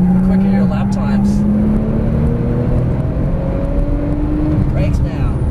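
A Porsche 911 Turbo S accelerates on a race track, its engine pitch climbing steadily in a sustained loud pull heard from inside the car, with a brief shift partway through.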